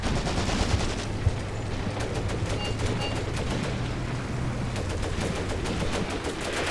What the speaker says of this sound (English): This guy's got a great little shot with his machine gun.